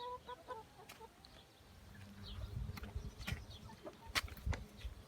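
Chickens clucking inside a coop, scattered close clucks and calls over a low background hum, with some louder pecking or rustling toward the end.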